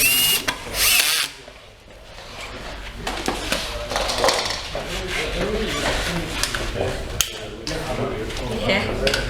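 A power drill drives screws into the rear guard of an Inokim electric scooter during a battery replacement, giving short whirring bursts close by between quiet pauses, with a voice talking in places.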